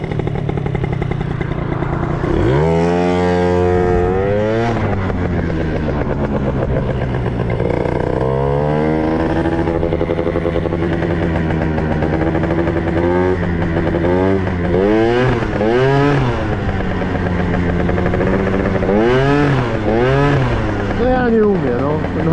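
Small scooter engine revving repeatedly, rising and falling in pitch through several throttle bursts, loud and close, with a steady rattling idle between revs.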